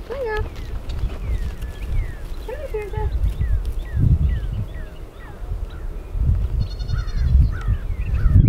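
Several goats bleat in short wavering calls over a busy background of shuffling and someone talking, with birds chirping faintly.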